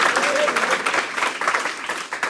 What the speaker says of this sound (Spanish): Démosle ofrenda de palmas a Elohim, mis hermanos.